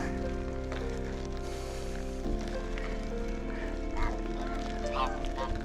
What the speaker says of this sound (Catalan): Venen les oques a rebre'm.